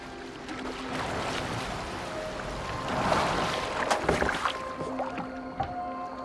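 A boat moving across water in the video game Assassin's Creed Valhalla, with a steady, continuous wash of water and scattered splashes and knocks that grow busier toward the end, heard alone with no talk.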